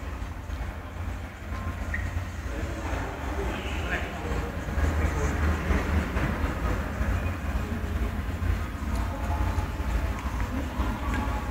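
A train rumbles through Ban Na Bon railway station in Thailand, a steady, moderately loud low roll of wheels and cars.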